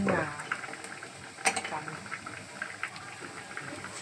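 Rohu fish roe batter bubbles and sputters in hot oil in a pan, a soft, steady frying crackle with occasional sharper pops, while someone talks over it.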